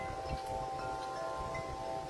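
Outdoor wind rumbles low and steady against the microphone for about two seconds, with no voices and only a faint tonal hum above it.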